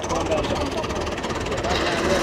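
A New Holland 850 tractor engine runs steadily and loudly up close at a farm threshing setup, a continuous throbbing drone with no pauses.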